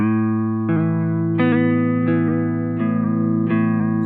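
Electric guitar played through a Chase Bliss Warped Vinyl pedal set to square-wave modulation at low RPM: sustained tones that step abruptly in pitch at uneven intervals, each shift hard-edged and pronounced, with no talking.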